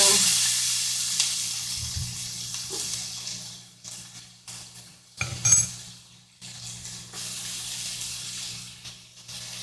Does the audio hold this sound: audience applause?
no